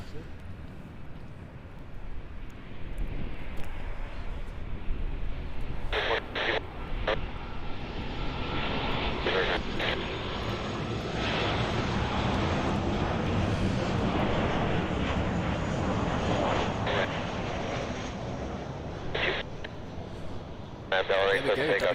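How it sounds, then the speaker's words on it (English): A Southwest Boeing 737-700 arriving from Austin lands on runway 24 right at Los Angeles airport, its steady engine roar filling the scene while a person talks over it. "Our next flight is Southwest Flight 453 arriving in from Austin, the 737-700."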